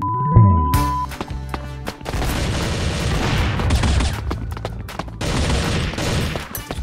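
Loud, dense gunfire and booming blasts fill a first-person shooter game Bullet Angel, with rapid automatic bursts and heavy explosive thumps overlapping almost without pause.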